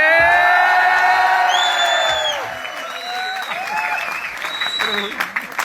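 Audience at a Vestige business seminar applauds and cheers, loud whoops and shouts over clapping at first, then trailing into scattered clapping and calls.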